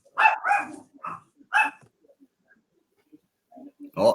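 A dog barks close by in a run of sharp, irregular yaps, falls quiet for a stretch, then lets out a couple more barks at the end.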